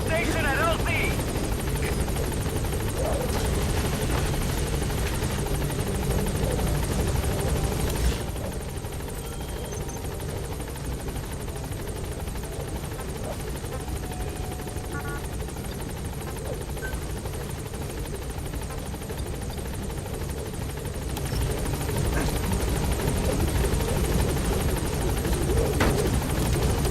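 Pequod, the transport helicopter in Metal Gear Solid V: The Phantom Pain, arriving at a landing zone: a steady, loud rotor drone fills the whole stretch and swells again near the end, with a voice talking over it.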